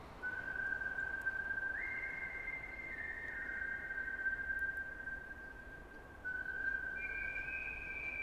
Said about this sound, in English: he started whistling quietly